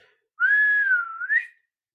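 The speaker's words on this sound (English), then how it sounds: "she whistles and a dog comes trotting up" One person gives a single clear, sustained whistle lasting about a second, holding a steady pitch before dipping and rising at the end, loud and close with silence around it.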